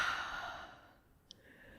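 A soft, audible exhale during a TRX standing stretch in a strength and conditioning class, a breathy sigh that fades over about a second, quiet and close, followed by near silence.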